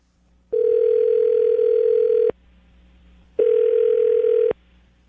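A telephone dial tone sounds loud and steady in two long bursts separated by a short gap of quiet line hiss, with no talking over it.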